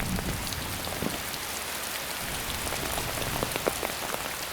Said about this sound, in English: a storm threatens to flood the site.